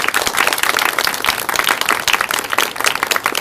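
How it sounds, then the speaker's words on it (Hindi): Loud, dense applause from a spiritual gathering in Ahmedabad, honoring Brahmarshi Pitamah Patri ji, with many hands clapping steadily and close throughout. "ब्रह्मर्षि पितामह पत्री जी के लिए जोरदार तालियां बजाएंगे।"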